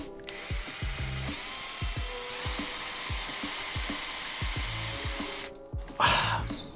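A budget cordless drill bought from Temu whines continuously while struggling to turn its chuck, with repeated knocking slips under the motor drone, close up, ending in a brief clatter as it stops.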